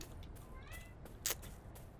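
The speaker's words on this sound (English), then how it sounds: "And now my cat has decided to make a guest appearance in this episode." A house cat meows faintly once or twice over a steady background hum, with a brief brighter chirp partway through.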